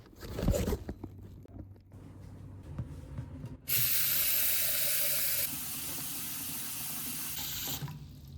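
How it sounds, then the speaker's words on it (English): Running water pours and hisses in a steady spray, with softer splashing and sloshing first, then a loud tap-like gush that drops slightly in level before cutting off. "if you don't believe me, just take a listen. It's the ocean."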